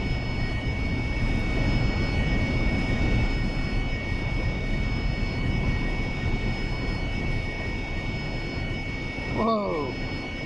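An AV-8B Harrier jet taxis in the DCS flight simulator game with a constant whining engine drone and steady high tones, and a brief voice exclamation comes near the end.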